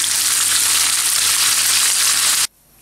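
Tofu with herbs frying in soy oil gives a loud, steady broadband sizzle that runs unbroken for about two and a half seconds, then cuts off abruptly into near silence.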